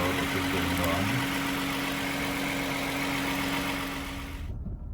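A Toyota Highlander engine idles just after starting, a steady mid-pitched hum that stays even before cutting off abruptly near the end, with someone speaking over it.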